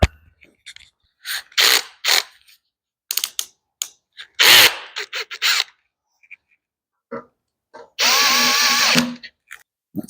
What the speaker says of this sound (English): I'll grab a little drill to help speed this up.